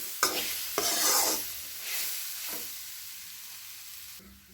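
Meal maker (soy chunk) pieces coated in ginger garlic paste are stirred in a hot pan, giving a few scraping strokes with a soft sizzle that fades toward the end.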